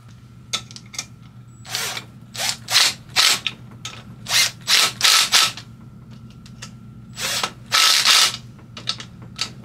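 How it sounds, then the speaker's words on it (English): Hand ratchet tightening the cam bridge bolts on a Trailmaster 150 stroker engine, close and crisp, in repeated short clicking bursts with pauses between strokes, no talking. "put the cam bridge back on, tighten her down, release it"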